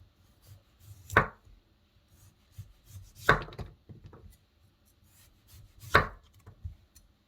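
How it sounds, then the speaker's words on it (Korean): Three sharp knife chops slice thin pieces of autumn radish on a cutting board, evenly spaced a couple of seconds apart, close and crisp against a quiet background. "무는 얇게 썰어주고"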